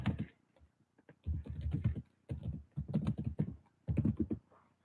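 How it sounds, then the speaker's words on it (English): Bursts of typing on a computer keyboard, close and fairly quiet, with clusters of rapid key clicks separated by short pauses and no talk. "I'm going to type in here."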